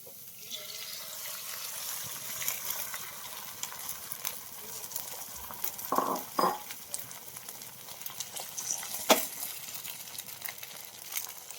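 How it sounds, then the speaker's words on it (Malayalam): Beaten egg goes into a pan for an omelette, a soft watery sizzle and pour with a few louder scraping stirs midway, fairly quiet and close. "നമുക്ക് ഇതിലേക്ക് ബീറ്റ് ചെയ്ത് വെച്ചിരിക്കുന്ന മുട്ട ഇട്ട് കൊടുക്കാം"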